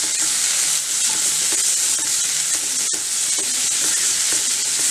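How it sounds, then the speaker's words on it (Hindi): Vegetables being stirred in a hot pan with salt and turmeric for a mixed vegetable dish, a steady sizzle with soft scraping strokes running through, close and continuous. "और इसको हिला लेंगे।"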